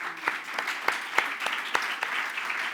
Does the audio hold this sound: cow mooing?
no